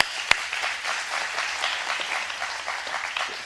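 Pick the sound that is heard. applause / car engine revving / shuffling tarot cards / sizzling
applause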